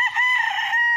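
A rooster crows once, loud and close, with no voices, on a fenced one-hectare farm lot planted with carabao grass in Liliw, Laguna, where many chickens are kept.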